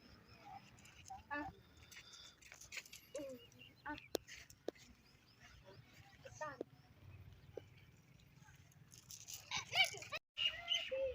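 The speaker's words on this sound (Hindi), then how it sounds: "ऊपर परिंदों की खूबसूरत आवाज़ें" Birds chirping and calling in short high bursts, scattered and moderately faint, with occasional sharp knocks and a low background hum.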